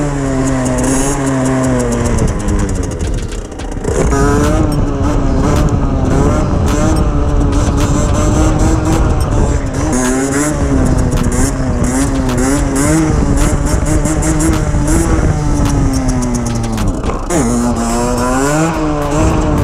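A 50cc Derbi Senda motorcycle engine screams continuously at high revs outdoors while the rider does wheelies, its pitch rising and dipping with throttle changes, close and loud with no talking.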